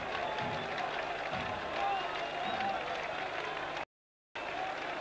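A small crowd in a Holon stadium cheers and claps after a goal at a 1988/89 football league match between Tzafririm Holon and Maccabi Netanya. The steady roar is briefly cut by a short dropout near the end.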